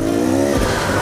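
A Beta Xtrainer dirt bike engine revs hard with a loud, close, buzzing tone that holds briefly and then drops away within a second.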